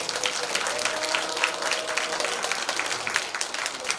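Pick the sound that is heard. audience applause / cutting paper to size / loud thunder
audience applause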